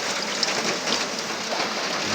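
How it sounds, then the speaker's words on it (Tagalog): Steady rain pours down in a remote hillside village, a dense, even hiss with scattered close drops, loud and continuous, with no voices. "Ulan na naman."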